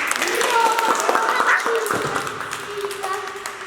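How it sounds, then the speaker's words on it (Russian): Children in a preschool group lesson clap their hands softly in scattered, uneven patter while an adult voice and children's voices sound over and around the quiet clapping. "Хлопаем тихо"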